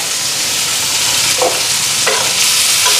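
Sliced onions frying in hot oil after fish, a loud continuous sizzle close up, with a few scraping stirs of the spatula against the pan.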